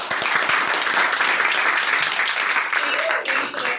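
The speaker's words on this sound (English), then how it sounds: "So please give a round of applause for Elizabeth." An audience at a talk on the Endangered Species Act applauds the speaker Elizabeth, a dense, sustained round of clapping from a crowd that fills the room, steady and fairly loud.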